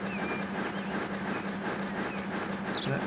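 A heavy train with a long rake of wagons labouring up a gradient in Transport Fever 2, its steady low rumble and faint rail clatter running continuously without talk.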